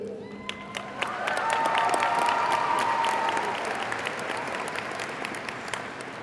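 A high school graduation audience claps and cheers for several seconds, a dense, steady wash of applause with scattered whoops, heard from within the crowd.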